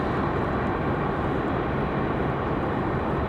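A Republic Airways airliner in house livery taxis with a dense, steady broadband engine roar, constant and fairly close, with no talk.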